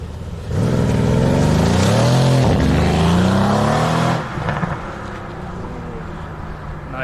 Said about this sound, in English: Just focus on the engine sound now